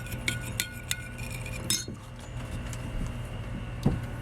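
A utensil stirs two tablespoons of mirin sauce with a tablespoon of white vinegar in a small bowl, clinking lightly against it in quick taps, then a pause and one more clink, close and without talk.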